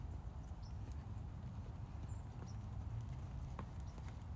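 A horse's hooves clip-clop steadily at a slowing pace, coming down to a walk, the steps close and continuous over low rumbling background noise.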